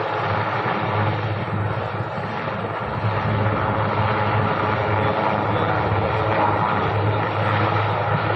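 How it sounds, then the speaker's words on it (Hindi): An Indian Navy helicopter hovering about 50 feet up during a Navy Day commando demonstration, engine and rotors droning steadily and loudly, a constant heavy rumble with no pauses. "हेलीकॉप्टर इस समय लगभग 50 फीट की ऊंचाई पर"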